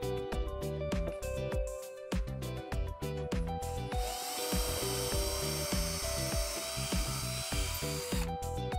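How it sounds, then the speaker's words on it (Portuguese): A drill bit bores a hole in wood at a sliding table saw, with a steady close power-tool whine running through most of the stretch amid rhythmic mechanical chatter. "já deixei aqui a minha broca preparada, vou fazer um furo."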